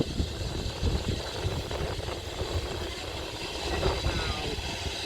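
A heritage train rolls along the rails at Buckingham Railway Centre with a steady low rumble and a rhythmic clatter of wheels, heard continuously and fairly close throughout.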